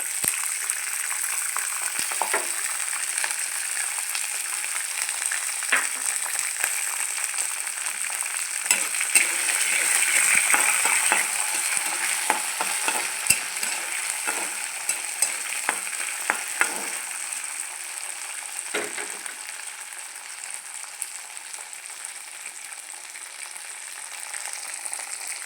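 Green peas and corn fry in a hot pan while a spoon stirs them, giving a steady crackling sizzle with scattered scraping and clinking taps throughout, close and moderately loud, with no talking.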